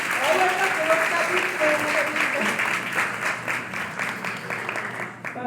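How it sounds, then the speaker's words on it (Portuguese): Church congregation applauding at an evening conference service, a steady mass of clapping filling the room while a voice speaks over it, tapering slightly at the end. "Vamos aplaudir o Senhor pela vida."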